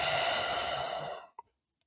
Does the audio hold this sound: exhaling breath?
yes